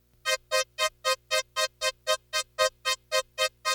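A keyboard plays a part from a song without delay: a steady run of short, evenly spaced staccato notes, about fifteen in a row, crisp and dry with no echo.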